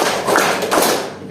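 Several sharp hand claps ring out in a classroom clapping game, with quick bright slaps in a loose rhythm over a busy, roomy background of children.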